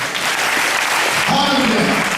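A church congregation claps loudly and steadily in praise of the Lord, with voices calling out over the dense applause.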